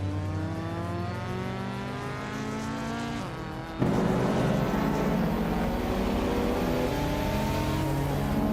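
Race cars roaring around a track in a racing video game, a steady layered engine drone with rising revs and a sudden louder surge partway through, continuous and close with no talk.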